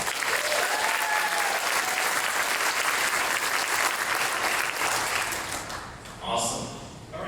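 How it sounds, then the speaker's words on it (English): Sustained audience applause at a chamber of commerce annual dinner and awards event, a dense, loud wash of many hands clapping for an award winner that fades toward the end, with a brief cheer or voice rising near the close. "Give this man a round of applause."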